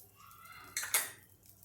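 Metal spoon scrapes and clinks against a pan while chivda tempering with chili flakes and black pepper is stirred, a brief pair of bright scraping strokes, close and fairly soft.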